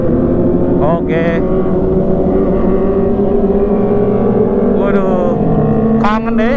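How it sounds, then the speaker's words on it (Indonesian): A Kawasaki ZX four-cylinder motorcycle engine drones steadily and loudly throughout while riding on a touring trip, with a sustained even hum. Short bursts of voices cut in over it near the start, middle and end. "kangen deh di belakang suara ZX motor 4 silinder"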